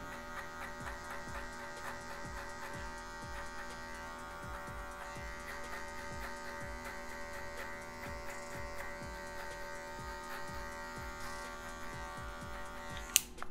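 Electric hair clipper with a number 1 guard cutting frizzy hair for a fade, a continuous close buzzing hum with rhythmic pulsing as it passes over the head, no talking.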